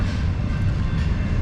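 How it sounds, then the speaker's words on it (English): A freight train rumbles past in Northwest Portland, a dense, steady roar of rolling wagons close by with no pauses and no voices. "You can be stopped for a really long time waiting for this train to pass."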